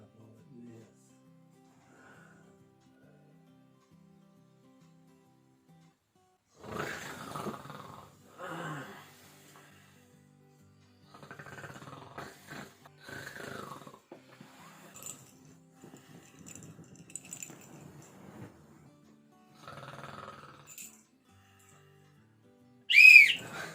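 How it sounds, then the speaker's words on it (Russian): A sleeping woman snores and breathes in quiet bursts, with someone speaking softly to her in between and a whistling noise at the end. "Ну ты храпишь."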